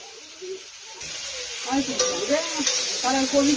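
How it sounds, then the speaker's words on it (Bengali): Fish curry with ridge gourd and potato sizzling and frying in a pan, with stirring scrapes; the sizzle starts quieter, then grows denser and louder, steady and close. "ঝিঙে আলু দিয়ে তরকারি হচ্ছে"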